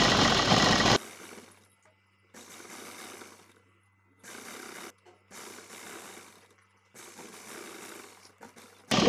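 A sewing machine stitches the folded sleeve edge of a plain blouse. It runs in several separate bursts of about a second each, with quiet pauses between them and a louder stretch at the very start.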